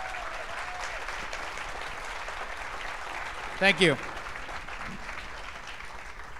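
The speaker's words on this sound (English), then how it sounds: "if you put your hands together and give it a round of applause." A conference audience applauds a lineup of speakers with steady, moderate clapping throughout, while a voice briefly says a couple of words close to the microphone partway through.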